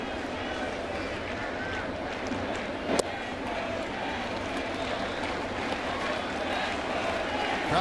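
A baseball stadium crowd during a New York Mets at New York Yankees game murmurs as a steady, dense roar, with a play-by-play voice speaking over it.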